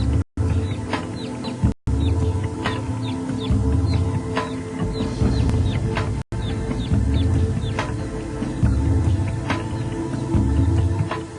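Small chicks cheep in a steady stream of quick, high peeps, close and fairly loud over a dense farmyard-like clucking background, with no talking.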